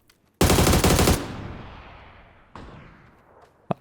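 A loud, rapid burst of automatic gunfire close up in the video game PUBG, followed by a long fading echo, then a single sharp shot and a brief click.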